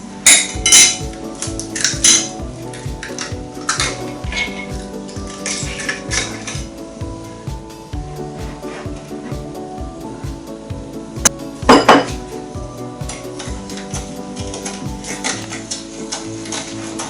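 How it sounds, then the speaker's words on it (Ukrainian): Eggs are beaten with sugar in a bowl for a grated pie, giving continuous close clinking and scraping of utensil against dish, with busy rhythmic clatter and a few louder knocks. "Спочатку ми розітремо яйця з цукром."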